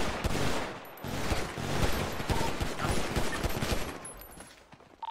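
Dense gunfire in a GTA roleplay shootout at City Hall on NoPixel, loud continuous volleys of overlapping shots with rapid bursts throughout, with no pause in the firing.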